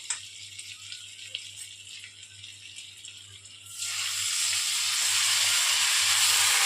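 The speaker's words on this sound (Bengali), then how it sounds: "এবার আমরা চিকেনটাকে ভালো করে ফ্রাই করে নেব" Marinated chicken for butter chicken dropped into hot oil in a pan, starting as a low crackle and then erupting into a loud, steady sizzle that holds to the end.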